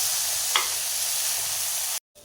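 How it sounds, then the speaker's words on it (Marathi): Rice being stirred gently by hand into fried vegetables in a pan for a green pea and paneer pulao, giving a steady soft frying hiss with one brief scrape, then a sudden cutoff. "हलक्या हाताने आपल्याला तांदूळ यामध्ये मिक्स करून घेऊयात"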